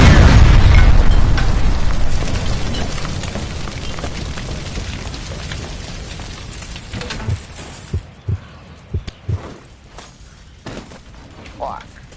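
A gas line explosion in the video game L.A. Noire, opening with a loud booming blast that rumbles and fades over several seconds, followed by scattered pops and thuds while voices talk.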